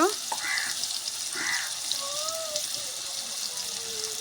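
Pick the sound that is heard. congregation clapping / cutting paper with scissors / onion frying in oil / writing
onion frying in oil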